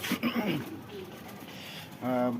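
Pigeons cooing on a rooftop give soft, low, throaty calls, one at the start and a louder one near the end, mixed with someone talking nearby.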